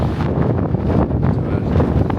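Strong wind buffets the microphone in loud, continuous gusts that roar without pause.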